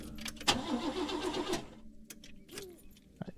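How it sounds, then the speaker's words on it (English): A car engine cranks and catches in the video game Lorelei and the Laser Eyes, a short starter whir followed by a brief running engine and faint clicks, fairly close. "Okay, start the car."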